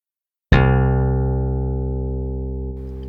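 A Reason Malstrom software synthesizer plays a thumb bass grain table: one sharp plucked bass note that rings on with dense harmonics and slowly fades, alone and clean, with a slight change near the end.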